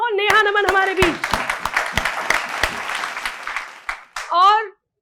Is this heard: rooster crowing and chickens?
no